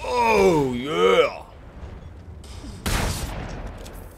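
Gunfire in Mad Max: a man's excited exclamation is followed by quiet, then a single loud shot near the three-second mark, with a rumbling tail.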